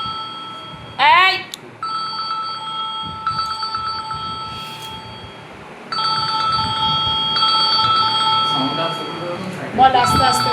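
A mobile phone rings with a melodic electronic ringtone that repeats its tonal phrases over several seconds, with a short voice-like sound and faint background noise around it.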